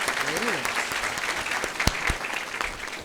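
Audience applause during a business session, a steady wash of clapping from a room full of people, with a voice speaking briefly over the start.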